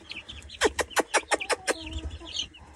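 Korean-breed chicks cluck in a quick series of about seven sharp, close calls, followed by quieter background clucking and faint rustling.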